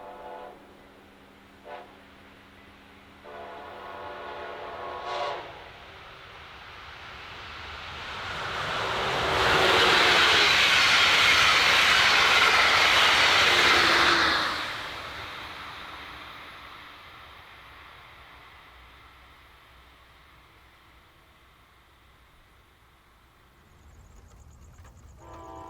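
A Brightline passenger train passes northbound, a broad roaring rush that swells to a loud peak lasting several seconds, then fades slowly into the distance. A couple of short horn-like tones sound before it arrives.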